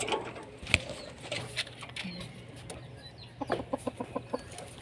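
Breeder pigeons in a loft give soft cooing calls with scattered clucking and fowl-like sounds, ending in a quick series of rhythmic pulsed calls nearby.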